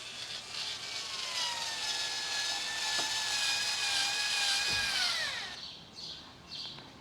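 A HYCHIKA 4-volt 2.0 Ah cordless rechargeable electric screwdriver whirs steadily for about five seconds, its motor pitch sliding slightly, then cuts off and is followed by a couple of short bursts, up close with no talking.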